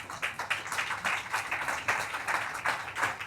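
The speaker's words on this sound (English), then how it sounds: "Give yourselves a round of applause for being involved in revolution." A small group claps at a press conference, with distinct, fairly quick individual claps forming a loose, uneven rhythm at moderate volume throughout.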